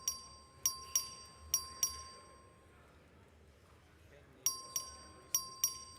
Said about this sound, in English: The record vote, the clerk will ring the bell.